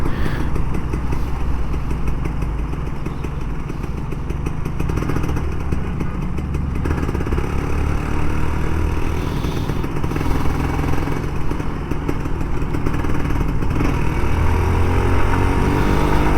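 An old Kawasaki Ninja RR 150, unused for about a month, warms up at a steady, loud, continuous idle with a fast, even putter close by, with no talking.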